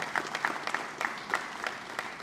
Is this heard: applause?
yes